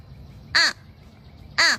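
A boy imitates a fish crow with his voice, giving two short, nasal caws spaced about a second apart, loud and close with quiet between.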